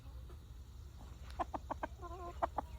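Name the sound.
rooster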